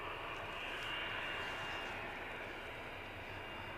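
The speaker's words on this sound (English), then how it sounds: "And our inbound EasyJet from Milan is there." An inbound EasyJet airliner from Milan at Edinburgh Airport gives off a faint, steady jet-engine roar with a thin high whine, constant and distant for the whole stretch.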